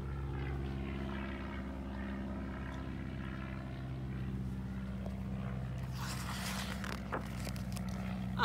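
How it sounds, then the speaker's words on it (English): A propeller airplane drones overhead, steady and moderately loud, with harmonic engine tones holding throughout and a brief rustle of other noise near the end. "Just like the airplane that flew overhead."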